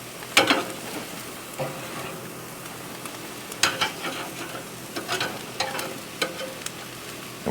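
Chicken sizzling on a grill over direct heat, with crackling bursts and spitting pops coming in uneven clusters over a low steady hiss, close and loud, no voices.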